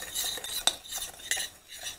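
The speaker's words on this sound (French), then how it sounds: "Là, je mélange." A spoon or utensil stirs dough for Tunisian gazelle horn pastries with orange blossom water in a bowl, giving soft scraping swishes and a couple of light clinks against the bowl, close and quiet.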